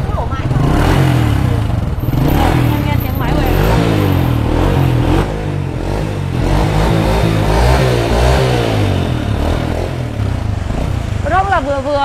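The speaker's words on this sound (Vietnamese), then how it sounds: "xe máy em nó vừa nổ thôi ạ" An old Honda Dream motorcycle engine idles steadily and loudly up close, a continuous mid-pitched putter under someone talking throughout.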